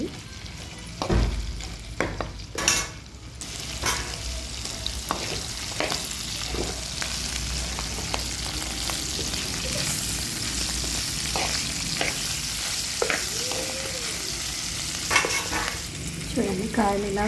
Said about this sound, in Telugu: చూడండి కాయలు ఇలా వేయించుకుంటూ ఉండాలి.